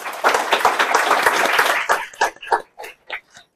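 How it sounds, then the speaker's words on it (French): Audience applause at an agile conference session, a burst of dense clapping for about two seconds that thins into a few scattered final claps and fades out. "je propose qu'on prenne juste 10 secondes pour les applaudir et pour les remercier"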